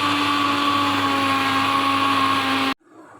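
A blender grinds papaya leaf paste with a loud, steady motor whine that runs unbroken for nearly three seconds, then cuts off abruptly into quiet.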